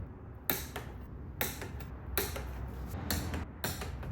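A torque wrench tightens suspension bolts on a BMW F30, giving five evenly spaced sharp clicks that ring out with metallic bursts over a quiet, close workshop background.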